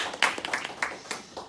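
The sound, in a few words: congregation applause in church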